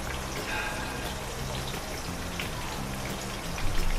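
Stuffed tinda gourds fry in a pan with a steady, dense sizzle and crackle that hold an even level throughout, close with no talk.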